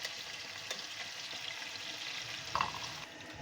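Chicken fries in a pan for a spiced rice dish, giving a soft, continuous sizzle and crackle with occasional louder pops and a brief stirring clatter.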